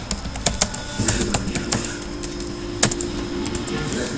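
Close, steady clicking of computer keyboard keys, irregular taps with a few sharper strikes, playing alone over a faint background hum.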